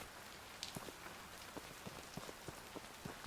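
Steady pouring rain in a video game, a dense, continuous hiss with scattered drop taps striking a surface, quiet and even throughout with no voices.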